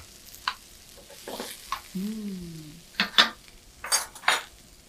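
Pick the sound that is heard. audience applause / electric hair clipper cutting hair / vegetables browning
vegetables browning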